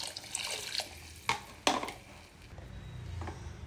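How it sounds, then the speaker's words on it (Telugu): Water is poured from a bowl into a cooker holding quinoa and vegetables, a close splashing pour with a few sharper splashes and knocks, then a softer trickle fading out. "3 బౌల్లో వాటర్ పోయాలి"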